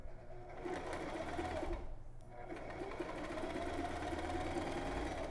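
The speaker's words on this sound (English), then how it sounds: "forward stitch, back stitch, sew in a straight line, following my seam allowance here on the grid." A sewing machine stitches a straight seam on a drawstring bag, forward then back, its steady fast mechanical whir running nearly the whole time with a brief pause partway, faint and close.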